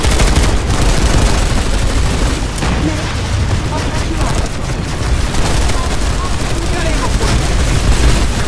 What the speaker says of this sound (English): Mag Rider hit my tank mines.